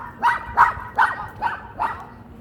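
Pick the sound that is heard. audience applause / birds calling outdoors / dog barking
dog barking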